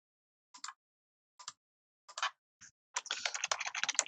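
Someone types on a computer keyboard, a few separate keypresses followed by a quick burst of clicking, close and clear in an otherwise quiet room.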